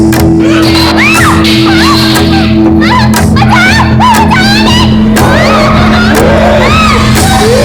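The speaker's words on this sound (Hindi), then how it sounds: "क्यों चिल्ला रही है?" A woman screaming and wailing loudly in rising and falling cries in a Crime Patrol crime drama, with other shouting voices and commotion around her throughout.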